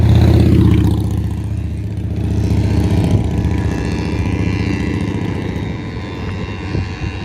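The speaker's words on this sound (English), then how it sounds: "After this motorcycle, I can go." A gas-powered motorcycle roars loudly close by at the start, then its engine drone fades gradually as it moves away, leaving a steady outdoor background hum.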